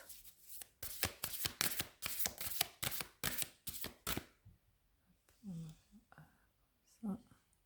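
Oracle cards shuffled in a quick, rhythmic series of crisp riffling bursts up close, then a few soft card draws and handling sounds while a woman whispers in French.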